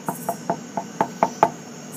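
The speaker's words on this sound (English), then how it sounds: "so I better just get knocking" Seven sharp knocks on a hotel room door, evenly spaced and close, ringing out alone without talk.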